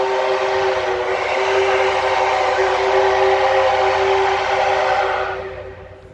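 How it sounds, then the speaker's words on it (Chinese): A DT668 steam locomotive sounds a long, loud, steady whistle for about five seconds before it cuts off, close by in the open air. "出库的蒸汽火车今天跑"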